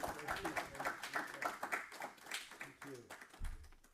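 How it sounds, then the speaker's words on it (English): An audience gives a round of applause at an African empowerment event: dense, steady clapping that runs the whole moment at moderate volume, with a voice speaking over it. "Let's give her another round of applause."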